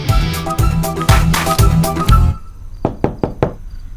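Knocking on a door: a run of hard, close knocks over a thumping backdrop, then four sharp, separate raps ringing out alone in a quiet room.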